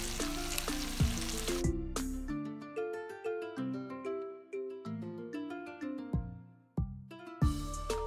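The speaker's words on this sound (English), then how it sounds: "Mix that well, and the Chinese chilies." Chinese chillies and spices stirred into a hot pan for a chilli salan, with steady close frying sizzle and bursts of louder crackling as ingredients hit the oil and are mixed.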